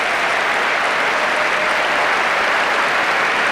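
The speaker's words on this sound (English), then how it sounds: "Gets a big cheer" Concert hall audience applauding the orchestra leader at a symphony prom night, a dense, loud, steady wash of clapping from a large crowd throughout.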